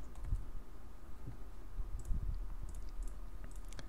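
Short words typed on a computer keyboard: a quick, light run of clicking keystrokes, close and fairly quiet, with no voice over it.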